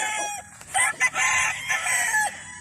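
Gamefowl roosters crow repeatedly on a game farm, several overlapping calls ringing out loud and fairly close with clucking between them, while someone talks faintly underneath.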